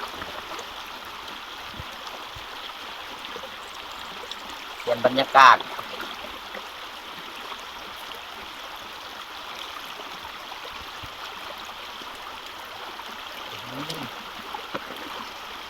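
Steady flowing water from a stream runs throughout at moderate volume, with a brief voice and a few small knocks partway through.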